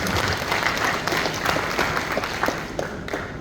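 A church congregation at a Sunday service applauds, a full, close round of clapping and crowd noise that stays steady for several seconds, with a faint voice mixed in underneath.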